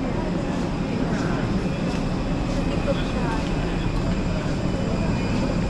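Steady, even roar of a Wizz Air airliner's engines heard from inside the cabin, a constant broadband rumble with no breaks.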